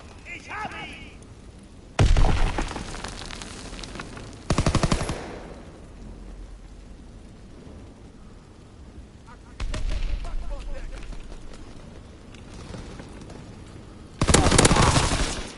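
Gunfire and explosions in Call of Duty WWII: several loud bursts of rapid automatic fire and booming blasts separated by quieter stretches, with a player talking in between.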